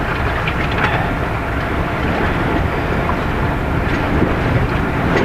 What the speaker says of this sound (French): La mer est superbe, le vent impeccable.